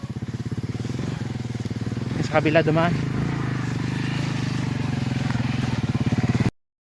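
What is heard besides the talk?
motorcycle riding on a rough rural road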